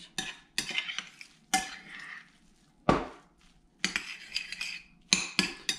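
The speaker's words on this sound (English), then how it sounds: "And then you stir it up. You get that egg mixed in there, right?" An egg is stirred into a cauliflower pizza crust mixture in a bowl, with repeated scraping and clinking strokes in bursts and short pauses between them.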